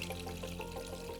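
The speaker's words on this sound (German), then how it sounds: "Und dann geht ihr einfach hin und lässt ganz, ganz langsam das Wasser auf das Küchenpapier" Water trickles very slowly onto kitchen paper laid in a 30-litre nano cube aquarium set up as a bonsai aquascape, a faint, steady, soft pour with no talking.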